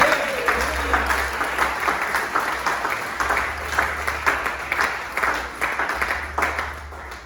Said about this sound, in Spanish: ¿Le pueden dar un aplauso a Él?